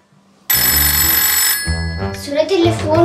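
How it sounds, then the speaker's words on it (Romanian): A telephone rings loudly after a brief quiet start, its sustained bright electronic tone cutting off after about a second, followed by a melodic ringtone-like jingle. "Sună telefonul?"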